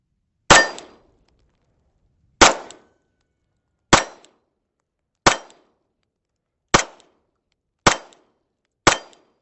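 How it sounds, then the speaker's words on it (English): Seven separate pistol shots ring out from a handgun fitted with a CVLife WolfCovert red dot sight, each a sharp loud crack spaced one to two seconds apart with short decays and silence between. "So let's put a couple rounds on there and see how she does."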